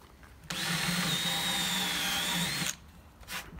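A power drill drives screws in a single continuous burst of about two seconds, loud and close, with the motor's whine steady throughout before stopping; no talk over it.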